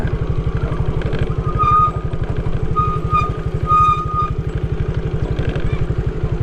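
An old boat's engine chugs steadily as the boat sets off, with a fast, even low throb and clattering overtones. The engine stays loud and close throughout, and brief tonal beeps or calls sound faintly over it.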